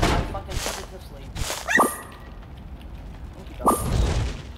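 A dog in Enter the Gungeon gives a few short barks with sharp tonal yips, one early and another about two seconds later, over background game noise and brief speech.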